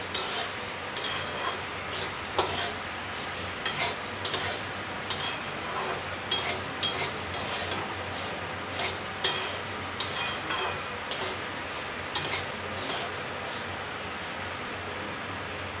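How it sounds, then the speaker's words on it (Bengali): Puffed rice being stirred and roasted in a pan, a constant dry rustling hiss with repeated light clinks and taps of a spoon against the metal, close and steady. "এইবার মুড়িও এর সঙ্গে ভালো করে একটু নাড়িয়ে ভেজে নেব।"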